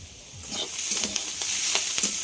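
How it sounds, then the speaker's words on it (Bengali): Beetroot and onion stalks fry in a pan with salt over low heat, giving a steady close sizzle with a few sharper crackles and stirring clicks, and no voices. "লবণটা দিয়ে আবারও খুব ভালো করে ভেজে নিতে হবে। তো ধিমে আঁচে ভাজতে হবে"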